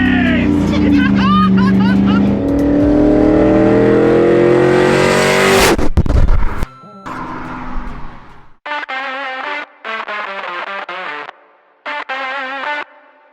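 A loud 6-litre LS V8 in a Chevy C10 pickup truck roars and revs for several seconds, then cuts out; bursts of rapid, rising mechanical whine follow in short separate blasts.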